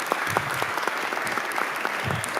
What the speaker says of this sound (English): Let's give both teams a round of applause.